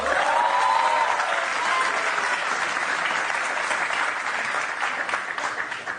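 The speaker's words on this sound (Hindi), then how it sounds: "वाह क्या तालियां बजी है ना भाईजान, लोग कितने खुश हो गए ना" A crowd claps in a steady wash of applause at a staged event, dense and even for several seconds before slowly tapering, with a brief voice near the start.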